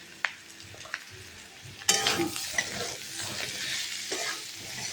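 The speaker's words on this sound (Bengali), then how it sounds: "নাড়াচাড়া করে নেব" Cumin and chilli powder stirred in a hot frying pan for a fish curry, a spoon scraping through sizzling oil with a sudden louder hiss partway through, continuing steadily with light clinks.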